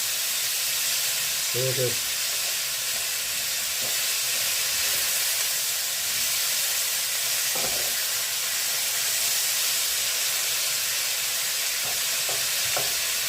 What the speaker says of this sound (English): See that sizzling off.